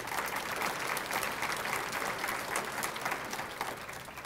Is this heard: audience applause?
yes